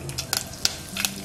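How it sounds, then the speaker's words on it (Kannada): Mustard seeds and cumin sizzling in hot oil for a South Indian tempering, with crackling pops and bursts over a low frying hiss, close and brief. "ಎಣ್ಣೆಗೆ ಸಾಸಿವೆ ಜೀರಿಗೆ ಹಾಕೋಣ"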